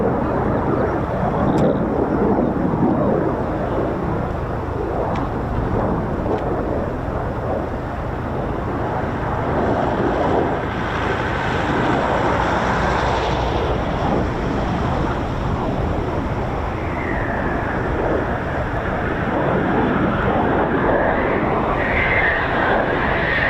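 Eurofighter Typhoon FGR4 jets flying in Vic formation near RAF Coningsby, a broad, loud, sustained roar of engines that swells and holds, with faint higher whines near the end.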